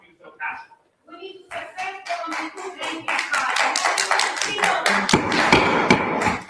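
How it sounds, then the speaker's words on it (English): Scattered audience clapping breaks out at a Cape Coral city council meeting, starting with a few claps and building into steady applause that continues to the end, with talk and murmurs underneath. "If we have any more clapping,"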